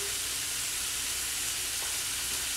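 Eggs and onions frying together in a pan for breakfast, the onions caramelizing, give a steady, close sizzle and hiss that holds evenly throughout with no voices.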